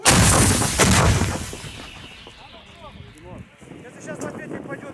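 A self-propelled artillery gun fires at close range with a loud blast at the start, a second boom close behind, then a rumbling echo that fades as voices talk.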